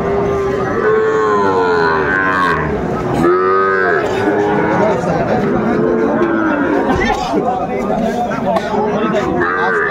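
Young bull calves moo loudly and repeatedly at a busy cattle market in Dinajpur, their drawn-out bellows rising over constant nearby chatter and crowd hubbub, with people talking throughout.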